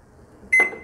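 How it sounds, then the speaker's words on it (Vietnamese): A single short electronic beep from an oven's control panel as preheat is pressed before baking a cassava cake, clear and close against near silence, followed by a faint clunk. "Bỏ vào đây và mình bấm preheat cái lò."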